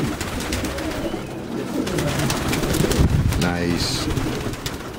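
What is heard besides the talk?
Danish pigeons cooing in a loft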